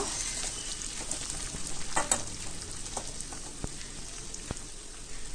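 Urad dal frying in hot oil together with ridge gourd peels, a steady close sizzle with scattered crackles and pops and the occasional scrape of stirring.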